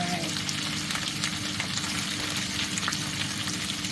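Thai pork belly stir-fried with chilies in a pan after turmeric is added, giving a close, steady crackling sizzle with faint scraping of stirring throughout.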